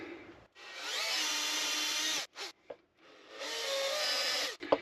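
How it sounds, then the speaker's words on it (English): A power drill whirs into wood drilling a pilot hole inside a campervan, in two sustained bursts, with short knocks and a brief pause between them, close and loud. "I'm just going to drill a pilot hole in here"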